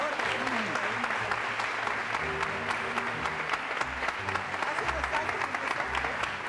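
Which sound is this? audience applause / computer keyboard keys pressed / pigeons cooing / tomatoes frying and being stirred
audience applause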